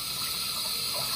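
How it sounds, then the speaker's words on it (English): Tap water runs steadily into a sink for hand washing, a continuous even gush with no talk over it. "Let's wash our hands first"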